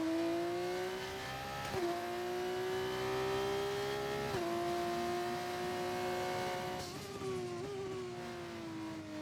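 An F1 race car engine screams through a push lap at Imola in a racing game, holding a steady high whine with three brief dips as gears shift, loud and close with no talking.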